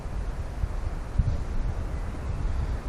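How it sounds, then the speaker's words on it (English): Wind blows across an open hillside, a steady low rumbling roar that buffets the microphone throughout with small gusts and no voices. "The wind's in our face."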